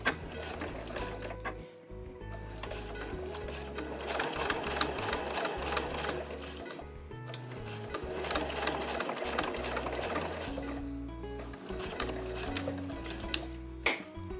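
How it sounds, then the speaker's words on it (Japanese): A sewing machine stitches a curved zipper onto Marimekko cotton fabric for a small cosmetic pouch, its needle chattering in a fast, steady mechanical rhythm close by, slowing and pausing briefly between runs, with no speech. "この端から 5mm を縫います。 では1センチ先に針を下ろして返し縫いからスタートします。"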